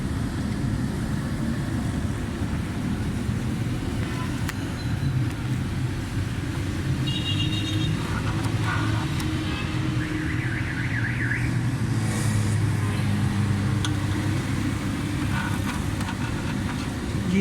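A Suzuki Mehran engine with a timing and fuel fault runs at idle, a steady low hum with faint higher tonal whines drifting in and out and no talking.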